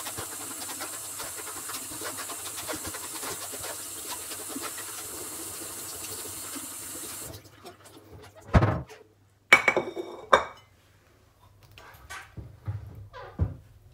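Water runs steadily from a tap over a can of precooked boiled food being washed in a kitchen, a constant hiss that stops abruptly, followed by a few close clunks and knocks of the can.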